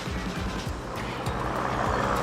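A 4x4 vehicle rolls in close to a campsite with a steady, rumbling engine drone and a low, even hum of tyres on the ground, and no talking.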